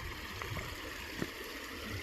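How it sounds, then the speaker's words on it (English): Small mountain creek near White Pass flowing with a soft, continuous rushing hiss and faint gurgles, steady and fairly quiet with one brief knock. "What a nice little creek."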